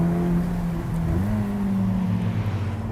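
Ferrari Roma Spider's 612bhp engine heard from inside while driving, a loud steady drone with a dip and rising pitch as it shifts and pulls.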